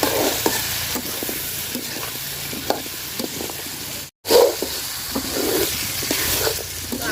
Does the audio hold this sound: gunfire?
no